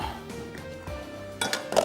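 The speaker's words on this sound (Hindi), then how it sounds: "यहाँ पे एक पैन ले लिया, इसका हम तैयार कर रहे हैं तड़का।" A metal pan is set down on a kitchen stove to make a tempering for dal, giving a few soft knocks and then a brighter clatter near the end, close and fairly quiet, with no talk.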